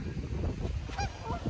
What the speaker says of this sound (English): Some noisy geese